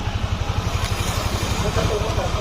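A rebuilt Yamaha Aerox 155 scooter engine idles close by with a smooth, even, low putter that pulses rapidly and steadily the whole time.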